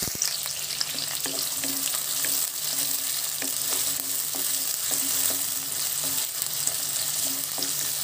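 Onion fries in hot oil with a dense, steady crackling sizzle, punctuated by light taps of a stirring spoon, close and without talk.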